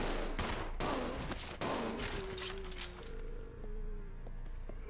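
Rapid bursts of gunfire in Resident Evil 0 HD, several loud sharp shots in quick succession early on, then a lingering ringing tone as the shooting fades.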